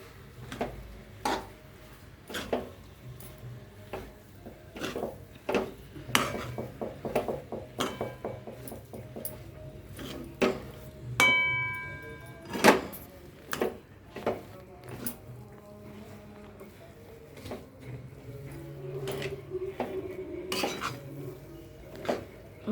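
Potato mixture for vada pav stirred in a metal pot, irregular clanks and scrapes of a spoon against the pot, some clustered and fast, others spaced apart, close and fairly quiet with no talk.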